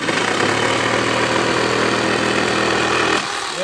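A Parkside PFS 710 D3 reciprocating saw runs at a steady high whine with a dense buzzing drone, loud and close, then cuts off near the end.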